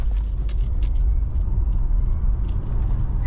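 A Xiaomi SU7 electric car accelerates hard in Sport Plus mode from a rolling start, filling the cabin with a steady, loud low rumble and road noise and no talking.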